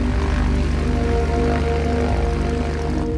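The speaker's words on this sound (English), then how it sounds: "The XF-5U is powered by two powerful Pratt & Whitney twin Wasp engines." A Vought XF5U fighter plane powered by two Pratt & Whitney Twin Wasp engines drones with a steady, loud, throbbing propeller roar that holds evenly throughout.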